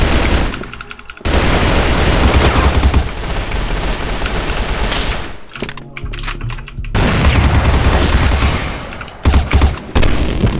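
Free Fire video game combat with loud, dense bursts of gunfire and heavy booming blasts, several long stretches broken by brief gaps, close and filling the mix with no voices.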